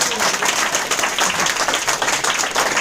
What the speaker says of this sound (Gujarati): તો તમારા જાત માટે કેવી ક્લેપિંગ પાડો